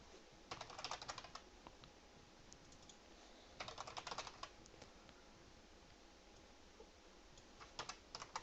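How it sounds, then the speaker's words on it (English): Bursts of computer keyboard typing during C++ programming, quick irregular clicks in clusters separated by quiet pauses, close and moderately loud with no voices. "that was a lot more typing than I anticipated"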